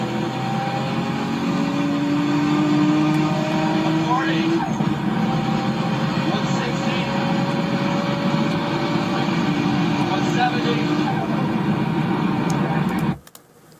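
A turbocharged car engine with a boost leak runs at high revs, a steady droning roar with rising tones and a slow blow-off valve release, close and loud, ending abruptly near the end.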